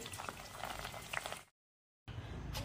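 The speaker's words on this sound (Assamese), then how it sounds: "ফুচকাখিনি ভাজি ল'লোঁ। এয়া দেখা পাইছে বহুতখিনি ফুচকা ভাজি লৈছোঁ।" Puchka (golgappa) shells fry in oil with a soft, bubbling crackle. The sound cuts out briefly and then resumes at the same quiet level.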